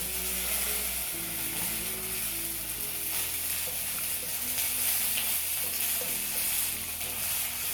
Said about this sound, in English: now we're going to add in the stock slowly